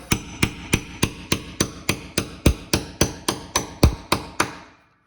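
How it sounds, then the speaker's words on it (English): Sharp metallic hammer strikes on a piano tuning pin, about fifteen evenly spaced blows in a steady rhythm, close and fairly loud, then silence. "Now you will hammer it in."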